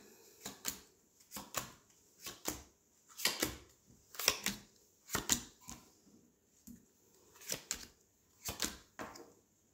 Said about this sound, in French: Je vais juste étaler mes cartes